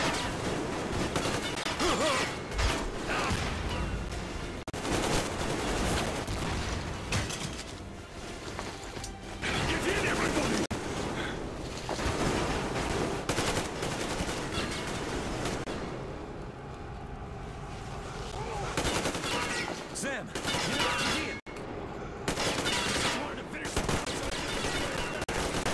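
Gunfire in Metro Exodus, long stretches of rapid shots and crashing impacts in dense bursts with brief lulls, loud and busy throughout.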